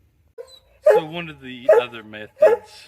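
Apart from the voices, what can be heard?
dog barking in the background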